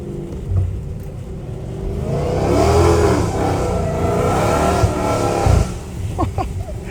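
An 800 hp Dodge Hellcat Redeye accelerates on wet pavement in the rain, its supercharged engine rising from a low rumble into a loud revving whine through a gear change, heard from inside with a brief voice underneath.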